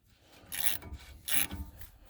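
A socket turning on the rear hub retainer nut during installation, giving two short metallic ratcheting bursts at close range, with no talk.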